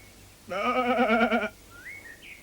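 A cartoon goat gives a single loud, wavering bleat lasting about a second, alone against faint background hum.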